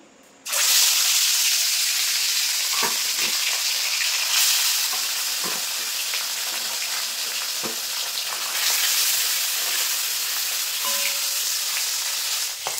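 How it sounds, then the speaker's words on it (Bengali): Pieces of a 3 kg rohu fish dropped into hot mustard oil burst into a loud, sustained sizzle that starts abruptly and holds steady, close up, with occasional small pops. "এবার মাছের পিসগুলো ভেজে নেবো"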